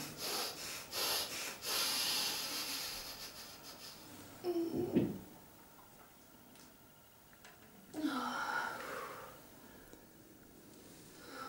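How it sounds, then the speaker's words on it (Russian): Rhythmic holotropic breathing during a Qi energy healing session for jaw joint arthrosis, heard as loud bursts of hissing, snorting breaths with quieter pauses between them, close to the listener. "Вот мы наблюдаем элементы холотропного энергетического дыхания."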